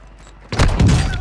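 Sharp gunfire burst in a multiplayer shooter match as a sniper round strikes a player, a sudden loud crack with booming impact after a quiet lead-in, followed by a second heavy hit and rumbling tail.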